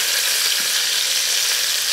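Dorade fish frying in hot oil in a pan, a loud, close, unbroken hissing sizzle with faint crackles that holds steady from start to finish.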